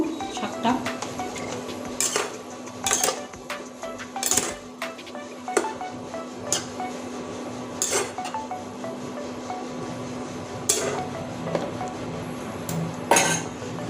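Spoon clinking against a pot while stirring a rohu fish curry with potato, bottle gourd and jute leaves, scattered sharp metallic taps over a low simmer hum, with a voice talking in between.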